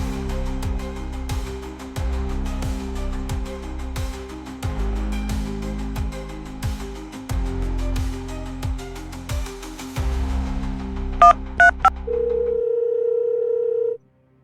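A steady telephone dial tone sits under a dramatic music score in a Tamil thriller short film, followed by a few brief dialing beeps near the end before the tone holds alone and then cuts off.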